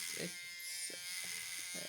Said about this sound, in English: It starts to vibrate. It makes a slight vibration.